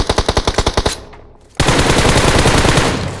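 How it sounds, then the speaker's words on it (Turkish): A FAMAS rifle fires in PUBG Mobile, first as a fast even burst of about nine close, loud shots, then after a short quiet gap a long, dense, continuous stream of automatic fire. "Famas harbiden deli gibi bir silah. Bildiğiniz deliyor arkadaşlar."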